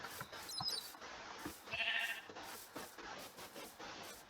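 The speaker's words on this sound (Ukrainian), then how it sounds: "Так, це, мабуть, вівці." Several sheep bleat in short, wavering calls in the video game Minecraft over a steady background hum, with a louder bleat in the middle.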